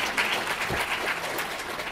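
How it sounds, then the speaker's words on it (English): Brief applause from an audience at a Women in Leadership Summit on a college campus during closing remarks, a continuous mid-level patter of many hands with no talking over it. "So yes, round of applause for Heather Switzer."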